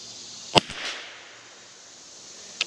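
A CZ 457 rimfire rifle fitted with an aftermarket trigger fires a sharp, close crack, with a second quieter report just after, a faint ring fading away, and another crisp shot near the end.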